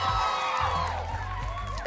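A live show crowd cheering sound effect: a short, loud burst of whoops and shouting voices that sustains briefly and then fades.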